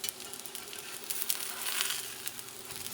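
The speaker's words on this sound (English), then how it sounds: "let me cook one side for about maybe 2 minutes" Hoe cakes cook on a griddle with a close, crackling sizzle that pops and fluctuates gently over a steady frying hiss, with no talking.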